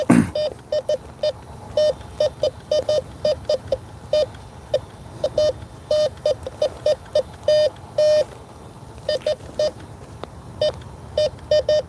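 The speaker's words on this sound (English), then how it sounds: "It's the concrete. It's probably the rebar underneath it." A metal detector emits a rapid series of short electronic beeps over concrete with rebar underneath, irregular in rhythm, loud and close, over faint background hiss.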